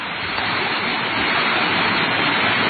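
Water rushes from a spring at the source of a waterfall in Ban Phue, Udon Thani, a dense, steady, loud hiss and rush of flowing water with no pauses, heard close by.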